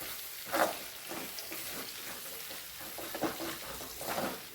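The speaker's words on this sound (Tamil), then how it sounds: "எல்லாம் எண்ணெயிலே வதங்கணுங்க" Ginger pickle with green chili and chili powder frying in hot oil in a pan while being stirred, a steady soft sizzle broken by irregular scraping stirs, fairly quiet and close, no talking.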